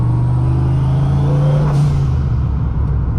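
Audi S4 car engine idling and revving up close, a steady loud low rumble with a brief rise in pitch near the middle, no talking.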